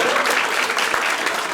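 A live Romanian-language stand-up comedy audience breaks into dense, loud applause, a brief burst of many hands clapping together at close range.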